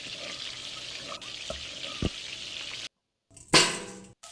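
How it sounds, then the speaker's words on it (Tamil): Mint leaves sautéing in a pan with ginger-garlic paste for South Indian mutton biryani: a steady close sizzle with small stirring clicks, a brief gap, then a louder burst of frying. "இதோட ஒரு கப் புதினா இலைகளையும் சேர்த்து விட்டு வதக்கிக்கலாம்"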